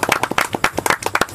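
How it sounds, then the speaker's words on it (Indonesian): A small audience at a community youth gathering claps hands in a brief, lively burst, with distinct individual claps rapidly overlapping near the microphone. "Tepuk tangan buat teman-teman semua nih"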